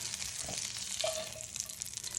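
Steady sizzling of Chicken Milanese frying in a pan off the heat, a constant crackle with a faint scrape partway through, no voices.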